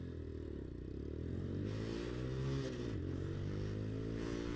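A 2020 Venom X22 carbureted motorcycle engine idles and revs up, a steady low engine drone whose pitch rises and dips once, with light mechanical clatter, heard fairly close and alone.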